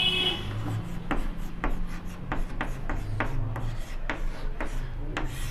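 Chalk or marker writing on a board during a trigonometry lesson, a run of short scratchy strokes at an uneven pace, close and clear with no talk over it.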